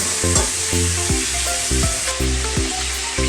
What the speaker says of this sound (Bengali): ফুলকপি আলু ভাজতে ভাজতে আমি একটা মশলা তৈরি করে নেব